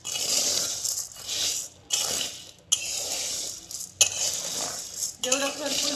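Whole rice roasting in a metal kadhai on low heat, stirred with a spatula in repeated scraping and clinking strokes about once a second, close and fairly loud, with brief pauses between strokes.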